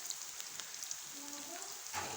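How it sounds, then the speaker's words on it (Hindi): Sliced onions frying in oil in a pan while being lightly browned for a pyaz tamatar salan, a soft, steady hiss of sizzling with faint crackles, quiet throughout. "अब इनको हम हल्का ब्राउन करते हैं। हाँ जी, प्याज हमारा फ्राई हो गया है।"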